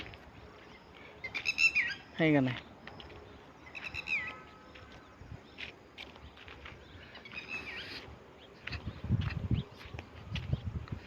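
Sharp, repeated calls of a red-wattled lapwing ring out in short bursts near the start, then fade as a voice speaks briefly amid outdoor background noise in a ploughed field.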